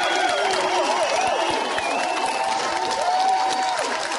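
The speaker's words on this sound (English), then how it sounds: "please welcome Harry Hill. Big round of applause" Studio audience applauding to welcome a comedian on stage, a loud continuous wave of clapping with some cheers and scattered whistles above it.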